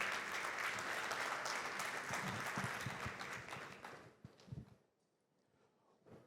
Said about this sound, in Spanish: Aquí, fuertes aplausos.